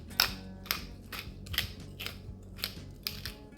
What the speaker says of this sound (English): It's always nice to have a freshly ground black pepper.